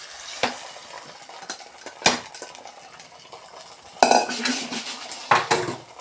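A metal spoon scrapes and clanks against a pan while stirring vermicelli payasam with melted jaggery and ghee. Sharp, irregular knocks and scraping strokes come up close, with quiet gaps between them and no talking.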